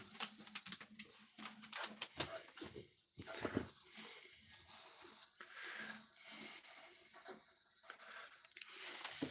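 Rosie, a pet dog, whines and whimpers in short, high, uneven bursts to be let outside, close by and fairly quiet, with small clicks and shuffles between the cries.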